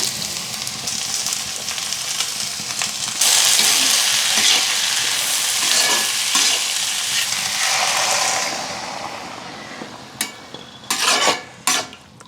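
Loud continuous sizzling of cashews frying in hot oil with sautéed onion, with stirring scrapes, easing off toward the end into a few sharp clatters of a utensil against the pan.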